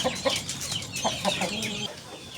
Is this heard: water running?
no